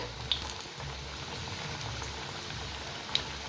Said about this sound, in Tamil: அந்த எண்ணெயோட சலசலப்பு எல்லாமே அடங்கினதுக்கப்புறம்